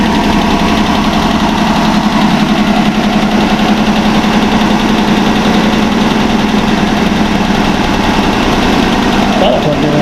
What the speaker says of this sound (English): We've got a misfire.